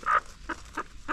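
A hen clucks loudly after laying a small egg, one strong squawk followed by three shorter clucks at a steady, spaced rhythm, close by with no talking.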